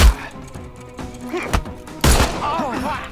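Gunshots fired in the Sherlock Holmes Chapter One video game: a sharp report at the start, another crack midway, then a louder burst of shots near the end, with game voices and sounds around them.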